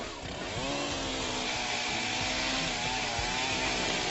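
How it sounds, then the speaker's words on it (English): A chainsaw runs steadily at full throttle, loud and close, its buzzing engine drone continuous as it cuts through a tree blocking a highway, with no voices. "we're going to have to chop this tree out of the way"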